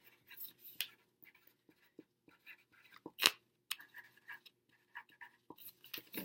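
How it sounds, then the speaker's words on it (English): A pen writes on a paper flap, faint scratchy strokes coming in short bursts and pauses at close range, with no talk. "So under the one flap, I'm going to write bats"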